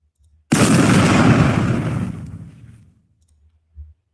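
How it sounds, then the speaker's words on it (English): A distant explosion, made as a sound effect, bursts suddenly into a loud broad rumble that rolls and fades away over about two seconds, followed by a faint low thud. "That needs to be a distant explosion."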